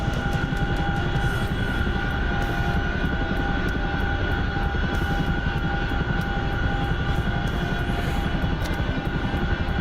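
Chinook twin-rotor helicopter hovering in a video game, a steady loud engine drone with dense low rotor rumble and a constant whine on top, unbroken and close throughout.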